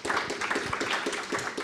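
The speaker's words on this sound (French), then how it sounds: "On peut les applaudir." Audience applauding the participants of a round-table discussion at a conference, a short burst of dense, moderately quiet clapping with no voices.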